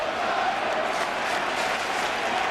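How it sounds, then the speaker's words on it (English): Stadium crowd at a 2006 American League Division Series baseball game, Game 3, roaring and chanting a Let's Go Tigers cheer; a dense, steady wall of voices that stays loud throughout, with no single speaker standing out. "they've got a rousing Let's Go Tigers cheer going up"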